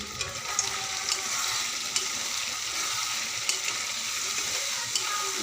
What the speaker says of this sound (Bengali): এখন গ্যাসটা স্লো আছে, ভাজতে হবে।